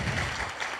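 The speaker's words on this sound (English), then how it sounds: "let's give him a big applause" Audience applause at a sustainable city forum, a brief, moderately loud burst of many hands clapping.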